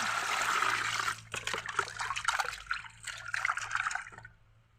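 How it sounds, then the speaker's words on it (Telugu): Water splashes and pours steadily into a container while cut pieces of freshly caught snakehead fish are washed, with sloshing and rinsing noises that trail off near the end. "వాటర్ అన్నీ పారేసి మళ్ళీ వాటర్ని పోసుకోవాలి"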